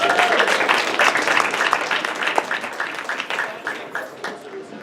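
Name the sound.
round of applause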